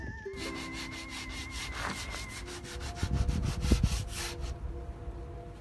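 Steady, rhythmic rasping of sanding against a boat hull, with repeated back-and-forth strokes, close and continuous for several seconds.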